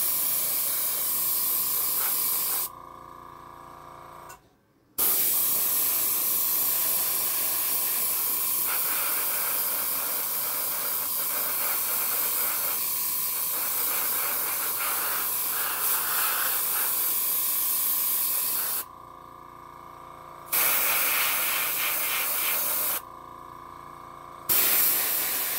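Airbrush spraying paint makes a loud, steady hiss broken by several short pauses where the spray stops and restarts, heard up close.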